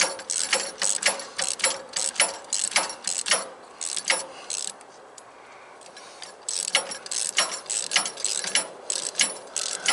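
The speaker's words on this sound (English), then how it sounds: "so I've got hold of my ratchet first" A ratchet wrench clicks in quick rhythmic bursts while grade 8 bolts are tightened on a Pat's Quick Hitch, fairly close, with a short pause in the middle before the clicking resumes.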